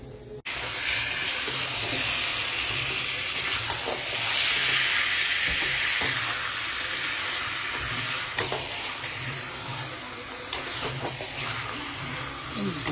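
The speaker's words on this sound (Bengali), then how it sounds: "ভালো করে একদম জম্পেশ করে কষাতে হবে মাংসটাকে, এইভাবে।" Chicken pieces being sautéed and stirred in a pan for a Bengali chicken curry, giving a continuous loud sizzle with occasional scraping and stirring clicks close by.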